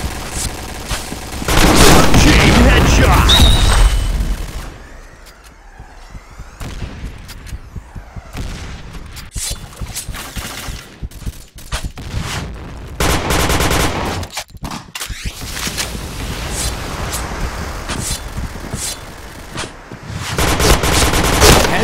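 Loud video game gunfire rattles in rapid automatic bursts, with heavy sustained fire at first, then scattered shots and short volleys, and a dense barrage again at the end.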